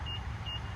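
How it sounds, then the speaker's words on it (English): A MINI unlocking from the black button on its door handle, giving two short, clear beeps a little under half a second apart over a steady low car hum. "press the black button and the car will unlock for us"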